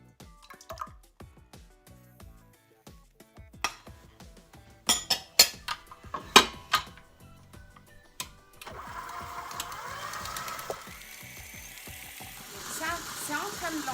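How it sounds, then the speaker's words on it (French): An electric mixer beats eggs with sugar for a cake, first as scattered clinks and taps against the bowl, then as a continuous buzzing whir that sets in partway through. The sound is moderately faint, with a voice talking over parts of it. "on va commencer par battre les œufs avec le sucre pendant au moins 15 minutes"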